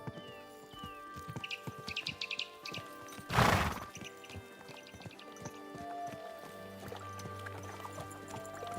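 Rhythmic clip-clop of horse hooves in Kingdom Come: Deliverance 2 over a busy game soundscape, with a loud whoosh midway and a steady low hum toward the end.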